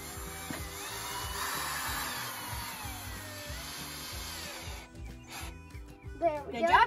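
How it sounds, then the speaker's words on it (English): A power drill drives a screw into a wooden birdhouse: a steady whirring drone with a rhythmic low pulse runs for about five seconds, then stops as people talk nearby. "so now we're gonna put in a screw"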